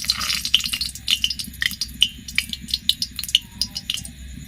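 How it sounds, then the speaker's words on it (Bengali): Dried red chillies sizzling in hot oil in a pan while a Bengali-style chicken and potato curry is being cooked, with a steady hiss and scattered metallic clinks and scrapes of a spatula stirring against the pan, with no talking. "এবার দিয়ে দেব আমি শুকনো লঙ্কা"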